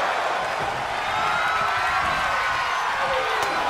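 A wrestling crowd cheers in a steady, roaring wash of voices, loud and continuous with no break.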